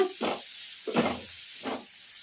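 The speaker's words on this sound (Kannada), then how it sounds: "ಮುಳ್ಳಂಗಿನ ಒಂದು 2 ನಿಮಿಷ ಈ ಥರ ಕಲಿಸ್ಕೊಂತ ಫ್ರೈ ಮಾಡ್ಕೊಂಬಿಡೋಣ" Grated radish frying in a pan, heard as three separate bursts of hissing sizzle as it is stirred and tossed, close and moderately quiet, with a soft steady background hiss between them.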